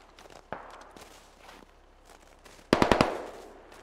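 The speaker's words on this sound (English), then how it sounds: "He just shot and let out a small burst." An LMG in Warzone lets out a short burst of about four rapid, loud shots near the end, preceded by scattered softer footstep-like thuds on a snowy hillside.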